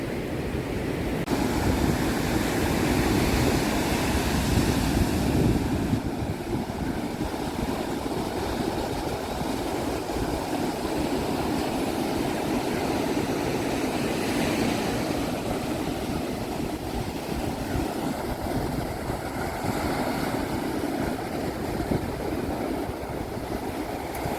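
Ocean surf rolls onto the beach at Mahabalipuram with a continuous broad wash and rumble, close and fairly loud, swelling slightly at moments, with no voices.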